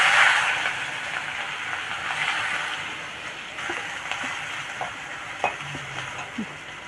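Small onions and fennel seeds fry in hot oil with a steady close sizzle, and a spoon stirs through them now and then, scraping and clicking against the pan.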